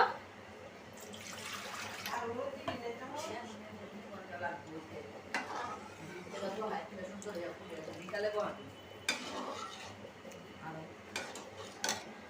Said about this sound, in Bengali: আর একটু পানি দিয়ে দিই